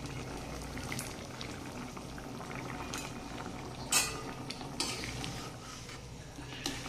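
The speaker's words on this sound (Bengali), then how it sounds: "ঝোলটা কিন্তু বেশ ভালোভাবে ফুটে উঠেছে" Egg and potato curry gravy bubbling at a steady boil in a cooking pot, a soft continuous burble with a few sharper clinks and stirring scrapes, no voices.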